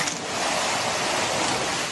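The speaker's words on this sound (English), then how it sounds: "Powerful torrents flushing cars away like children's toys" Flash-flood torrents in southeastern Spain sweeping cars away, a dense, continuous roar of rushing water filling the whole stretch, loud and unbroken.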